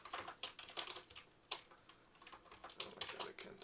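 Rapid, uneven clatter of keys on a computer keyboard while entering JavaScript code, close and fairly quiet, with bursts of several keystrokes and brief pauses between them.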